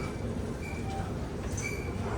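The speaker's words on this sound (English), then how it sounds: "There is a train approaching the station" A subway train approaches Whitehall Street-South Ferry station, a dense low rumble of wheels and rails filling the platform with faint squeals above it, steady and loud throughout.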